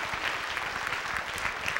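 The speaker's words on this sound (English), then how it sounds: "Let's give Ball a round of applause" A crowd at a church worship service applauds, dense steady clapping from many hands that holds at an even level throughout.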